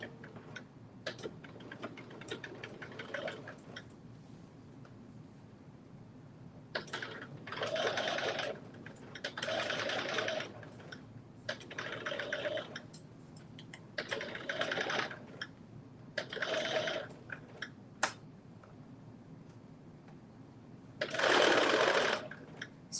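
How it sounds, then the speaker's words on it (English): A sewing machine stitching slowly around a circle: short runs of close, rhythmic needle clatter, each a second or two long, separated by pauses, with one longer, louder run near the end. "Sewing in a circle, sewing around a circle is, you can't go fast."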